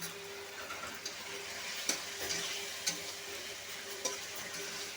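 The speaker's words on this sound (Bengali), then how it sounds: "ভালো করে কষিয়ে নেব।" Boiled potato and taro strips being sautéed in a pan for a hilsa fish curry, giving a steady soft sizzle with occasional scraping stirs, fairly quiet and close, with no talk.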